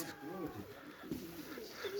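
Pigeons of various breeds coo in low, rolling phrases at a farm, faint and close, repeating over background noise.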